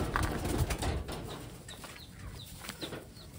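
Pigeons in a loft make soft, scattered coos and brief wing flutters, heard fairly close over a low background rustle.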